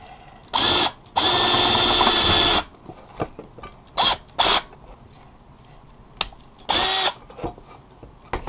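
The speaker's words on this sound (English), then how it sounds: "we'll just start by drilling that hole out" A power drill widening a pilot hole whirs in several bursts, one long run and a few short ones, loud and close with quiet pauses between.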